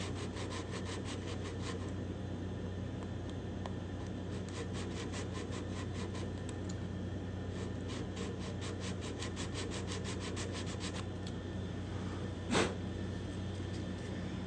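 Sandpaper backed by a card rubs inside a guitar's binding channel at the heel, making a faint, steady scratchy rasp with quick repeated strokes; a brief knock comes near the end.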